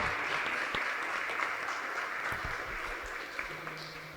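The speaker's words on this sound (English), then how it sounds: "Just give yourselves a round of applause" At Mayor Baraka's community family meeting, a crowd gives itself a round of applause: even, continuous clapping from many people at moderate level, with a few sharper knocks and bumps scattered through.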